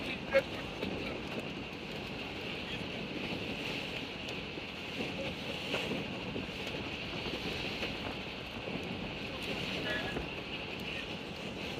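Waves slap against a boat rolling on rough water on the way back from Austagram and Mithamoin, a steady wash of splashing and wind under faint background voices.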